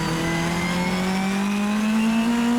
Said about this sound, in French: dès que ça accélère un peu, mon moteur il est asthmatique